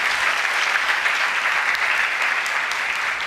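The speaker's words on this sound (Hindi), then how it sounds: "ताली बजाए खुदावंद यीशु के लिए।" A church congregation at a sermon claps together in sustained, dense applause, loud and steady throughout with no speech over it.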